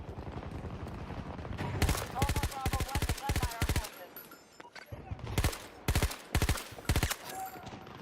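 Automatic rifle fire in a Battlefield match comes in loud, rapid bursts of evenly spaced shots separated by brief gaps, close and punchy over faint background noise.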